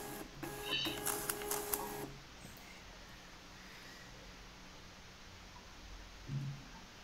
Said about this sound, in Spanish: lo mandamos a nuestra impresora, en este caso nuestra impresora de etiquetas. Podemos ver cómo sale la impresión.